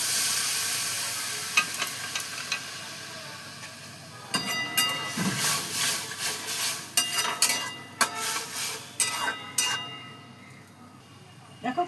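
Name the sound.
raw tamarind cooking with water in a pan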